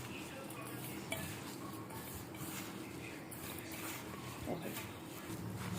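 Ghee being worked by hand into Kati Bihu prasad in a pot, with soft scraping, stirring and occasional clinks of the vessel running under steady talk in Assamese.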